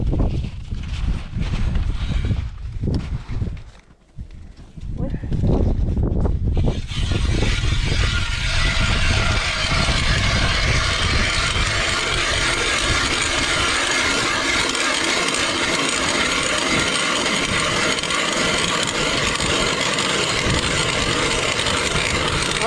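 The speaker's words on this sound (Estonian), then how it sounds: "Jälle hakkab puurima." An ice auger bores through the frozen surface of Pärnu bay during perch fishing. After some low shuffling it starts with a rough, loud whirring grind that carries on steadily and close by to the end.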